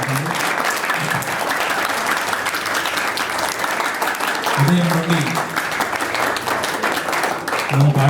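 A crowd claps in welcome at a chess board distribution event in Karimnagar, dense steady applause throughout with someone speaking over it through a microphone.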